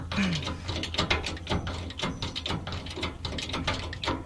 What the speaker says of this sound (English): then you just start jacking. And you can see I can raise this up.